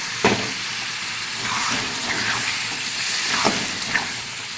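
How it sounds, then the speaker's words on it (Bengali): Potato dum masala sautés in oil after water is added, hissing and crackling continuously at close range with occasional stirring scrapes and sharp spits, no voices present. "ভালো করে এটা কষতে হবে যতক্ষণ না তেল ছাড়ছে।"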